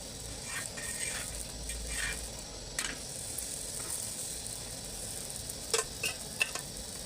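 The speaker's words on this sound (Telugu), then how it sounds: "ఇలా ఆయిల్ వేసుకుంటూ, లేకుంటే నెయ్యి ఉంటే నెయ్యి ఉన్న వాళ్ళు నెయ్యి వేసుకుంటూ ఇలా వేయించుకోవాలి." A layered paratha fries in oil or ghee on a pan with a soft, quiet sizzle, broken by a few sharp clinks and scrapes of a utensil.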